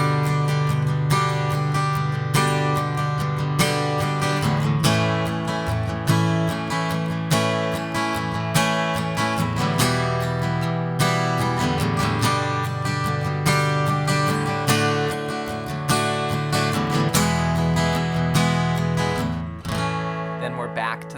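Guitar chords of the chorus of a Christmas song, strummed in a steady rhythm throughout a sustained passage with no voice over it.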